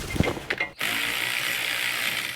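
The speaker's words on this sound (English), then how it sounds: "I'll buzz them out with an electric ratchet." An electric ratchet spins out starter bolts on a 2006-2010 Subaru Legacy Outback during an engine swap, with a few short clicks followed by a steady, close, high-pitched whirring buzz.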